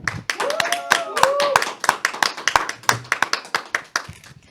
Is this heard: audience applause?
yes